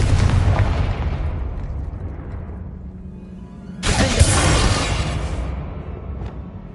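A Confringo spell goes off in Hogwarts Legacy with a loud, booming blast that rumbles and fades, then a second sharp explosion with crackling debris that trails away.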